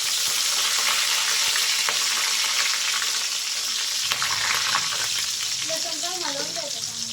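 Cumin seeds and garlic crackle and sizzle in hot oil for a tempering for a quick garlicky cauliflower dish, a steady, dense frying hiss filling the whole stretch, with a faint voice briefly audible near the end.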